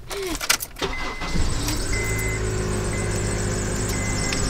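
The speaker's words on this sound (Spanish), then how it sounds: "Calentar mi carro" A car in damp, rainy weather starts with a few clicks and a short crank, then settles into a loud, steady idle as it warms up.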